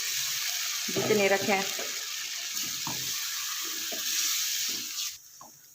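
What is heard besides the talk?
water poured into sizzling mutton and lentil curry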